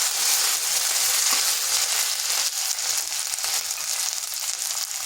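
Ginger and green chilli paste frying in a pan, a steady close hiss and sizzle with faint crackles running throughout, no voices.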